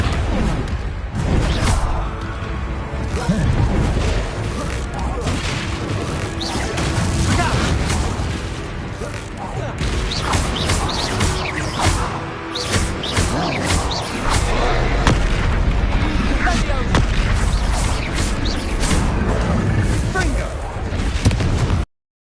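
Repeated Confringo blasting-spell explosions in a video game, loud booming bursts and crackling impacts over a steady dense battle din, with voices shouting throughout.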